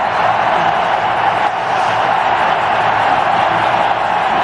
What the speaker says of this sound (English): The noise here in Nagpur is deafening to the ear.